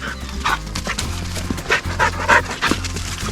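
A bird dog pants steadily during September wild bird training on grouse, giving quick rhythmic breathy puffs close to the microphone over a low outdoor background, with no talking.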